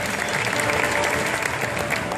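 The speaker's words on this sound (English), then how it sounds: "Big round of applause for Janine." Steady, dense applause from an audience at a Fear Factor-style challenge fills the whole short stretch, close and lively, with no pauses.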